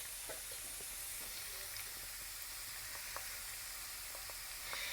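Onions and tomatoes sizzle quietly in a warm pan with a steady soft hiss, broken by faint scattered clicks and light stirring, low in level throughout.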